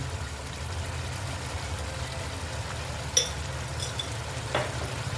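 Oil poured into a sizzling rohu fish curry with mustard and poppy seed paste, a steady low frying hiss with a faint splash and a couple of small pops, no voices.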